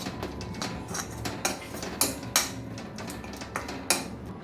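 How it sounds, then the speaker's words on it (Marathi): A spoon stirs fresh turmeric into a mixture in a metal pan while making tadka for vada pav, giving soft continuous scraping with a few sharp clinks against the pan, clear and close. "मी आता ही नवीन घालते आणि व्यवस्थित मिक्स करून घेते"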